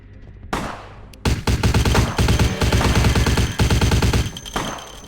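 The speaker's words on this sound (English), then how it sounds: "I got a Mac 10. I'll shoot you." Mac-10 submachine gun fire in Vampire: The Masquerade - Bloodlines, rapid loud automatic bursts in a few long strings with brief pauses, alone without talk.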